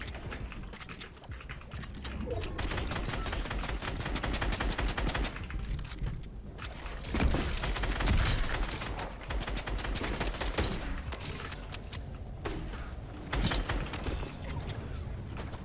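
Rapid gunfire bursts from a Fortnite match crackle through dense, busy game audio, with repeated shots and impacts layered over continuous action noise and no talking.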